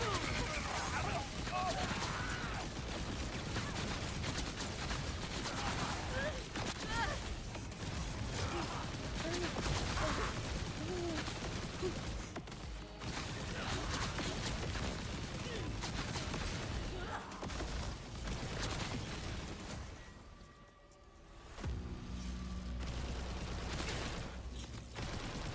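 Rapid SMG gunfire rattles almost nonstop in a video game, dense bursts with mechanical clatter and impacts, briefly dropping out near the end before resuming.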